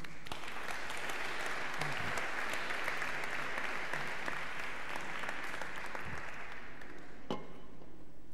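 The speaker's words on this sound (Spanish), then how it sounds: "Le vamos a dar un aplauso a las mamás" Sustained applause from a crowd, steady and dense clapping filling the whole stretch, fading slightly near the end.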